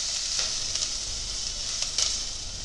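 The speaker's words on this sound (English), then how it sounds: "just fry your onions until golden" Onions sizzle in a pan for a vegan stew, a steady broadband frying hiss with occasional louder crackles and spatters, close and continuous with no voices.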